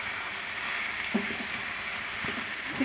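One kilo of washed chicken pieces goes into a hot pan and sizzles in a steady close hiss, with a couple of soft knocks as the pieces land and shift. No one speaks.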